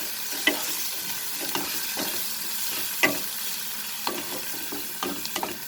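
Soya keema masala fries in a pan with coriander, cumin, turmeric and Kashmiri red chili powder, giving a steady close sizzle broken by sharp scraping stirs of a spoon at irregular intervals, with no talking.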